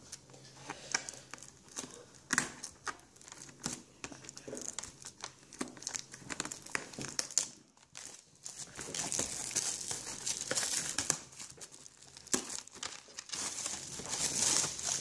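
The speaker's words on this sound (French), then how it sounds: "Et je vais passer à l'ouverture du coffret Yveltal." Plastic wrapping on a Pokémon Yveltal card box crinkles and tears as it is unwrapped, a steady close crackling and rustling that runs throughout at a soft level.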